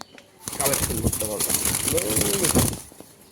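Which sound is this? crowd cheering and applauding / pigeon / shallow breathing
pigeon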